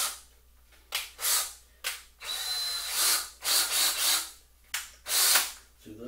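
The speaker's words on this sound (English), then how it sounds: "we're going to run a hole into the PVC." A power drill bores a hole into PVC pipe in several loud, whining bursts of a few seconds each, separated by short pauses, with no talk.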